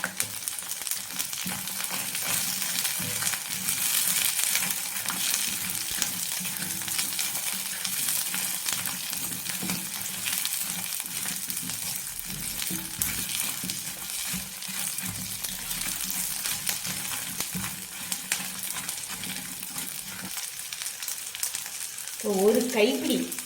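Green chillies and onion sizzle in a hot pan for Tamil-style mint chutney, a steady loud frying hiss with some stirring that runs throughout and a brief clatter near the end.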